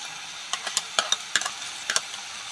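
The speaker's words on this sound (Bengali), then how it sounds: "কোয়াশ আর আলুটা আমি ভালো করে কষে নিয়েছি। এখানে এবার দিয়ে দেবো, আমি এখানে চিংড়ি মাছটা দিয়ে দিচ্ছি।" Shrimp hit a pan of squash and potatoes being fried, giving a soft steady sizzle punctuated by sharp scraping stirs and clinks of a utensil against the metal, close and alone.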